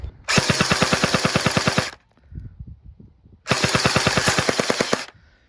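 An airsoft gun fires on full auto in two sustained bursts of rapid, evenly spaced shots, loud and close, with a short gap of faint clicks and handling noise between them.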